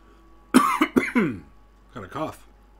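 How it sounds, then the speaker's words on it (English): A few close coughs in quick succession, a short cluster of three or four harsh bursts followed by two more after a brief pause, against a quiet background. "Got a cough."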